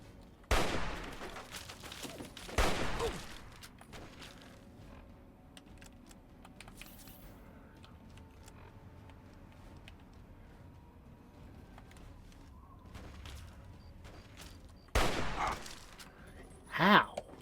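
Sniper rifle fire in Fallout 3, with loud sharp reports near the start and again near the end, separated by a long stretch of quiet game ambience.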